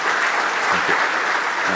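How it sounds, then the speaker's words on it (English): Steady applause fills the room at a gala, many hands clapping together at an even level, with a faint voice briefly underneath. "Please give yourselves a round of applause."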